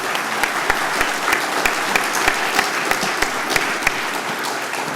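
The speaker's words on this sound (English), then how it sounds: "Round of applause" Steady, dense applause from a town hall audience, filling the whole stretch at even loudness with sharp individual claps, and no voices over it.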